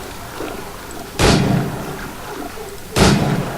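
Two close gunshots from a headshot in the Assassin's Creed video game sound as sharp, booming cracks about two seconds apart, each fading over a low ambient game background, with no talk.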